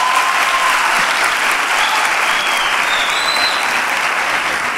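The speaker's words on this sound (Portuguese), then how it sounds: "Uma salva de palmas aqui pro casal." Audience at a live stand-up comedy show claps for a couple in the crowd, a loud, steady wash of applause with faint whistles and cheers rising above it.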